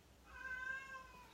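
Fat Kitty, a house cat, gives a single soft, drawn-out meow lasting about a second, fairly faint against a quiet indoor room.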